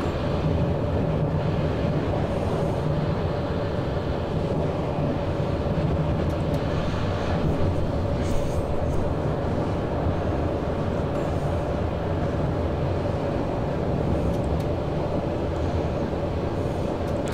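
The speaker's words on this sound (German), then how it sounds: "Und da über uns fährt hier noch ein Güterzug an uns vorbei." Freight train rolling past overhead in Train Simulator 2015, heard from a moving cab, a loud, constant rail rumble with a steady drone, continuous and unbroken with no voices over it.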